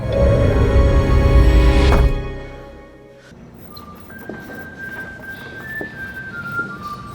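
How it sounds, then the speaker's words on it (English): A whistle in the TV show Severance sounds as a few thin, sustained tones held over quiet background ambience, after a loud, dense passage dies away. "Wow. The whistle."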